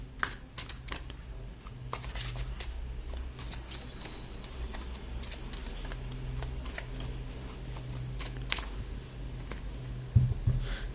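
Tarot cards shuffled by hand to draw clarifier cards, a steady, close, soft riffling and patting with scattered light taps throughout, over a low background hum.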